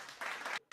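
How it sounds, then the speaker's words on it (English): Brief applause sound effect on a radio show, thin and short-lived, swelling for a moment, cutting out abruptly and then resuming. "Why is that a weak applause?"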